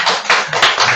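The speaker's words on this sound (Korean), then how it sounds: "박수로 환영하겠습니다" Church congregation at a Korean Sunday worship service clapping in welcome, a short burst of close, fairly loud hand claps with a loose pulsing rhythm and no talk.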